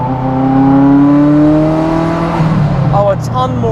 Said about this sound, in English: Oh, a ton more of the turbo noise. The swooshes, that was cool. All of the backfire.